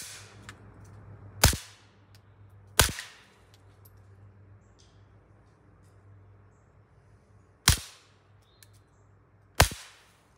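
Gunshots fired at an outdoor shooting range with a pistol wearing a red dot sight, four sharp cracks spaced irregularly, two close together early and two near the end, against quiet background.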